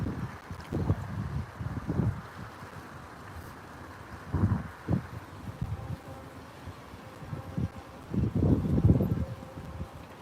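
Gusty wind blowing outdoors at Poole, buffeting the microphone in irregular low bursts that swell and fade, loudest near the end, with no voices.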